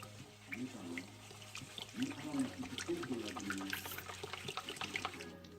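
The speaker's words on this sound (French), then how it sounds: "Je vais commencer par mettre l'eau dans le bol avec le lait en poudre." Water is poured into a bowl holding powdered milk for a quick pastel cake batter, a soft, faint splashing trickle that runs steadily for several seconds, with a few low murmurs beneath it.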